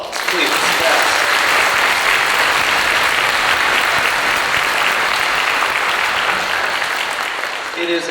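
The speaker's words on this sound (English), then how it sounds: "Give them another round of applause, please" Loud, sustained audience applause fills the hall for a youth symphony and string ensemble after their fall performance, dense and steady throughout with a slight swell near the end.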